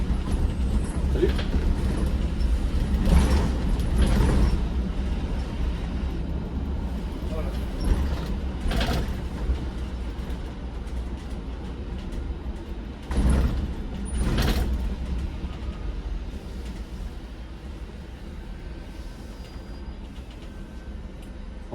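A standard city bus on Le Mans line 20 rumbles along with a steady low engine drone, creaks and rattles, and periodic mechanical thumps and hisses, while someone talks over it.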